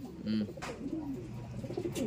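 Soft pigeon coos from young racing pigeons, a few low throaty calls close by, with a voice talking over and between them.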